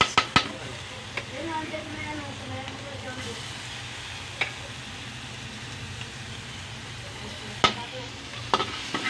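Garlic and onion sauté in a pan while a utensil stirs, giving a steady low sizzle with a few sharp scrapes and clinks scattered across it; a voice speaks briefly underneath.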